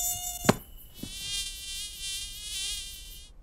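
Cartoon mosquitoes buzz in a high, steady whine that carries through most of the passage, broken early by a sharp pop and a softer thump.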